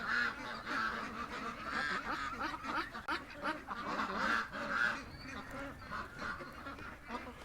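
Ducks in a pen quack and honk in a noisy cluster nearby, overlapping calls rising and falling continuously.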